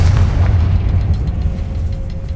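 A Confringo spell in Hogwarts Legacy bursts in a loud, deep boom that rumbles and fades over about two seconds, with faint crackling debris afterward.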